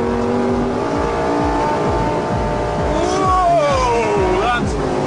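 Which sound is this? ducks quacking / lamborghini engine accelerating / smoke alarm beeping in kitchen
lamborghini engine accelerating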